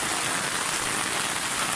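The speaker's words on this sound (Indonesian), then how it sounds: "hujan lebat dan dingin pula" Heavy, cold rain pours down outdoors, a dense, steady hiss of drops hitting the ground close by, constant and unbroken with no voices.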